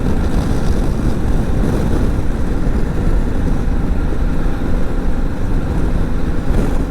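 A 2007 Honda Shadow Spirit VT1100C motorcycle cruising down the highway, a loud, steady low engine rumble mixed with heavy wind roar, constant throughout with no talking.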